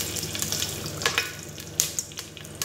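Bay leaf, stone flower, cinnamon, cloves, cardamom and a green chili fry in hot oil for coconut milk rice, producing a close, steady sizzle with scattered crackles and pops and no talking.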